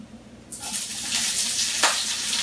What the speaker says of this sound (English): I'll start with the onion in the frying pan.